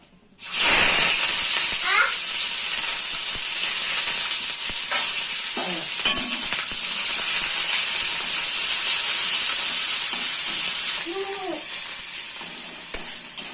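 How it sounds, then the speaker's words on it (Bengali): Loud, continuous sizzle and hiss of chopped onion frying in hot mustard oil in a kadai, with occasional scrapes and clinks of stirring, close up. "পেঁয়াজটা আমি হালকা ফ্রাই করে নেব।"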